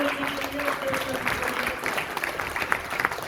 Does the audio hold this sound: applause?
yes